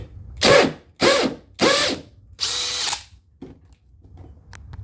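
Makita XGT 40V hammer drill running in short bursts, four loud rattling pulses of roughly half a second each with brief pauses between, followed by fainter mechanical clicks as it winds down.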